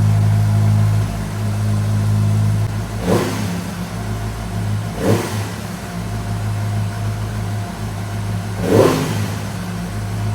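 A 450RR inline-four motorcycle with a large catalytic converter idles, then revs sharply three times, each rise quickly falling back to a deep, even idle.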